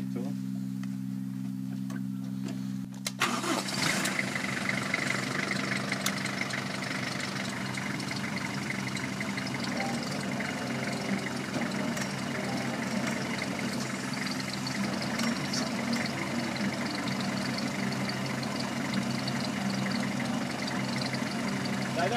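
Plunkett fruit thinning machine running in an orchard, spinning at about 200 revolutions a minute: a loud, steady mechanical roar with engine drone that starts abruptly after a few seconds of a lower hum and continues unbroken.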